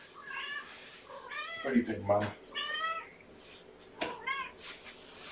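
Kittens meow at a weigh-in, several short high cries at close range mixed with someone talking softly.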